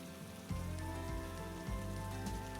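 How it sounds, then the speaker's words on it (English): Heavy rain pours down in a steady, dense hiss, with a soft low musical drone pulsing underneath throughout. "His sight was blurred as thick veils of water tore down around him."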